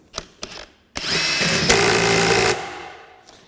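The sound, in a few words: Metabo HPT 18V impact wrench tightening a nut at level 4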